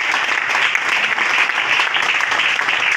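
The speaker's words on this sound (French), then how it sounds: "Acclamons pour le Seigneur Jésus." Church congregation applauding steadily for three seconds, a dense, continuous clatter of many hands at close range with no voices over it.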